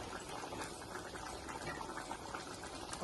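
Egg masala curry simmering in a pot, a steady close bubbling and popping that runs evenly throughout with no voices over it.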